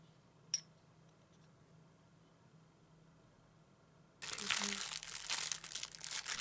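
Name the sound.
disposable plastic bags being handled and crinkled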